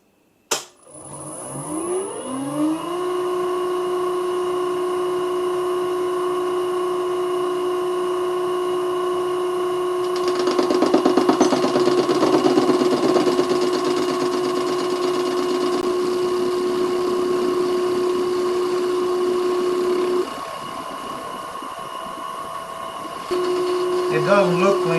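A metal lathe starts up and runs steadily with a clear high whine and a smooth mechanical drone, getting louder and rougher partway through as it works a rusty part, then dropping back before the tone returns.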